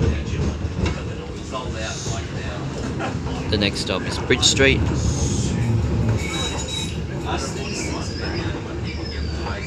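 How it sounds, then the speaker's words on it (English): Light rail tram running through the Sydney CBD and South East line, a steady rumble with wheel and rail noise throughout while an automated announcement plays over it. "And then this tram will stop all stops to Central Chalmers Street."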